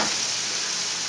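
Seasoned meat sautéing in olive oil in a pan, a steady close sizzle and crackle that holds evenly through the whole short stretch with no voices.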